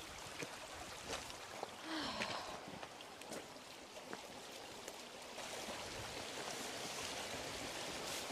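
A river flows steadily beside walkers heading upstream near old mine workings on the Isle of Man. The constant soft rush of water sits at a moderate distance, broken by scattered faint clicks and footstep-like knocks.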